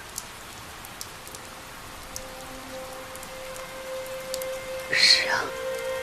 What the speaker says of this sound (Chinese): 夫人，下雨了，咱们回昭辉院避一避吧。